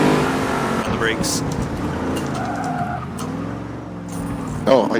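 Muscle race car in the Forza video game braking hard into a corner, tires squealing and skidding over the engine note, while players chat throughout.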